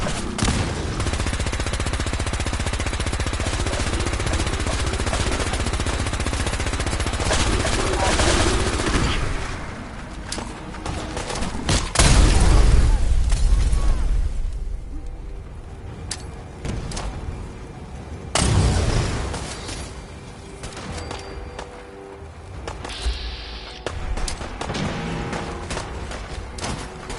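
Sustained gunfire and explosions roar in a Fallout 4 firefight, a long loud barrage with booming blasts near the middle, then sharper scattered shots and crackling bursts toward the end.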